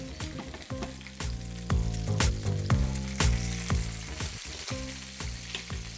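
Oxtail pieces browning in hot oil in a pan, a loud close sizzle and spatter with repeated sharp clanks and thuds as the pieces are flipped, no voices.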